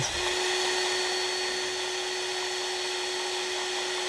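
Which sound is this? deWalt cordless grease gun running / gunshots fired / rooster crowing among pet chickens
deWalt cordless grease gun running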